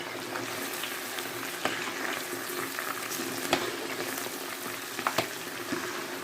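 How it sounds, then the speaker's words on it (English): Overripe plantain snack pieces fry in hot oil with a steady, close sizzle, dotted with sharp pops and crackles; nobody speaks. "you must fry them until they are dark brown"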